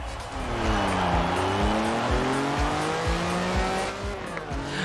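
A car launching at the start of a race in Forza Horizon 4 with an old German or Italian car from before the 1980s: the engine revs rise and fall through repeated gear changes, loud and close, with tire noise underneath.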